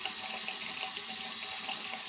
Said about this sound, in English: I'm putting some water on the soap.